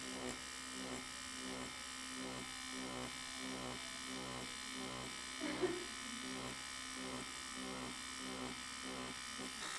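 A tattoo machine buzzes steadily and faintly while doing dotwork shading on synthetic practice skin, its hum broken into regular rhythmic pulses as the needle strokes.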